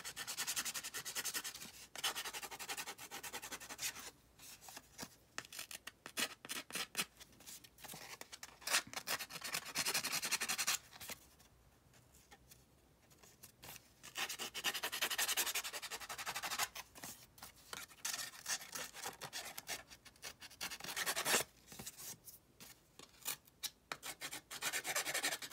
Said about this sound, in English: That noise of the scraping isn't too annoying.